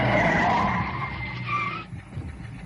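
Ferrari skidding in a British TV crime drama chase, a loud sustained tyre screech that fades after about two seconds into engine and road noise, with no talk.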